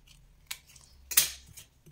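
Scissors snip into the corners of paper cut for a scrapbook album, giving two quiet, crisp cuts about half a second apart in an otherwise still room.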